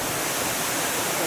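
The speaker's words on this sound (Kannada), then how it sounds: "Look at the foil guys." Soothanabbi Falls roars as a dense, steady rush of falling water, loud and unbroken from start to finish.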